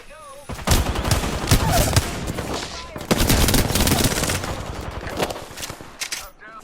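Rapid automatic gunfire rattles in two long, loud bursts during an Apex Legends match, with dense overlapping shots and brief pauses, while a player talks over it.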